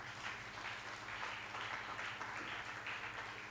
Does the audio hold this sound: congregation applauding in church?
yes